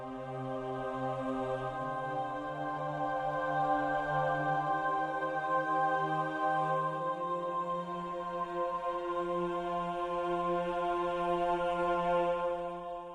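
A sampled choir from Spitfire Audio Labs Choir Long holds sustained vowel notes, the pitches shifting slowly through a smooth, continuous chord that stays steady and full for the whole stretch, with no talking.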